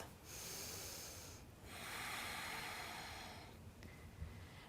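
Quiet, close breathing during a yoga hip-flexor stretch: a long inhale, a short pause, then a slow, steady exhale, with a faint sniff near the end.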